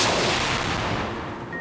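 Fireworks going off at a political rally as a leader arrives, a dense, loud burst of crackling blasts filling the short stretch and fading slightly toward the end.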